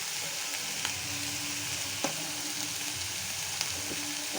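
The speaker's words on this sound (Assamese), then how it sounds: "মই এটা আদা নহৰু আৰু জলকীয়াৰ পেষ্টখিনি দি দিছোঁ। আকৌ এনেকৈ লৰাব।" Ginger, garlic and chilli paste fries in a pan with a steady broadband sizzle, and a few sharp clicks of the stirring utensil scrape against the pan at intervals.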